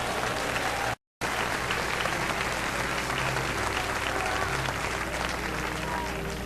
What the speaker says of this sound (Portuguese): Aplausos para Deus.